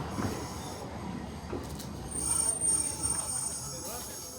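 Tram in Nagasaki, Japan, its wheels squealing on the rails in a thin high-pitched whine that swells midway over rumbling rolling noise and ambient background.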